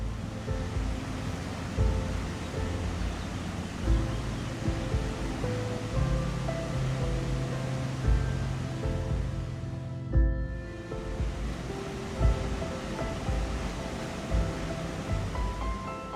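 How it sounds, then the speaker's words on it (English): A powerful river rushes through a narrow Himalayan gorge, a steady, dense roar of churning water that stays loud and unbroken throughout. "The river is compressed into a tight corridor, creating powerful flow and pressure strong enough to sweep away"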